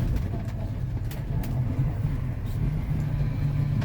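An old Ford F-150 truck engine runs steadily at a close, continuous low rumble, holding an even idle without surging, with faint road and outdoor noise around it.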